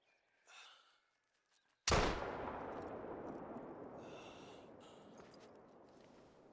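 A single 470 Nitro rifle shot fired during a hunt in Call of the Wild, one loud sharp blast with a long rolling echo fading over several seconds, faint breathing just before.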